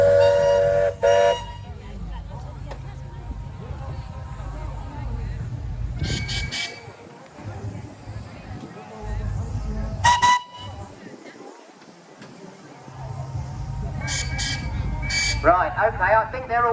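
Steam traction engines at a country show arena in East Sussex let out several short whistle toots spread across the scene over a rumbling engine background, while someone talks over a loudspeaker.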